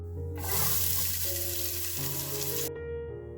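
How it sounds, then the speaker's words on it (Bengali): Cardamom, chopped onion and chopped tomato frying in hot oil in a pan, a steady close sizzle that swells in suddenly, holds for a couple of seconds, then cuts off. "গরম তেলের মধ্যে প্রথমে একটুখানি এলাচ ফোড়ন দিয়েছিলাম আর তারপরে পেঁয়াজ কুচি আর টমেটো কুচি দিয়ে"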